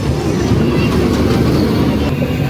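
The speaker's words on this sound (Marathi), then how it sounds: "लहान मुलांसाठी इथे छोटीशी रेल आहे, ट्रेन आहे," A small children's ride train runs at a village fair, a steady loud rumble and rattle of wheels and motor close by with constant crowd noise around it.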